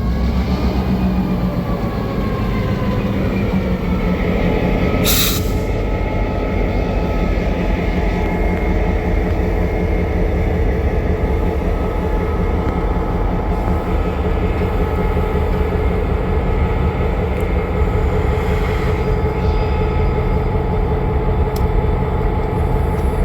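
A preserved F unit diesel locomotive at a railway museum's diesel event, running with an unusual sound; loud, sustained engine drone with steady rumble and clattering wheels, a brief sharp hiss burst around five seconds in, no talking.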